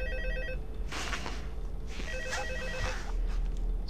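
A phone rings in the Five Nights at Freddy's 2 video game, an electronic ringtone repeating in two bursts over a low background hum, fairly loud and with no talk.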